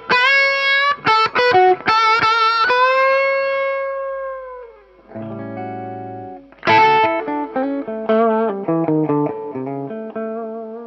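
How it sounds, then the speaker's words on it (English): Overdriven electric guitar with its volume knob rolled down, playing a loud, slightly gritty blues solo of bent sustained notes and quick phrases, with a brief drop to a quieter lower passage midway. "Turn down the guitar with the overdrive on, which is one of my favorite sounds."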